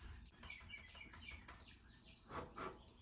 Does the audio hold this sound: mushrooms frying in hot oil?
no